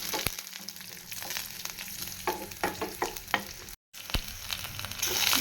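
Roasted peanuts and spices sizzling in a hot pan for a cauliflower gravy, with a steady frying hiss and scattered scraping clicks of a spoon stirring, close and alone with no talk.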